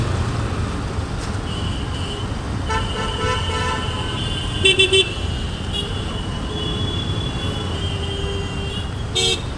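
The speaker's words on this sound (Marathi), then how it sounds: "आणि ही पवईची ट्रॅफिक, इथंच हा लफडा आहे ट्रॅफिकचा." Busy road traffic in Powai, Mumbai, with a steady engine rumble and several short car horn toots rising above it, including a cluster near the middle and one near the end.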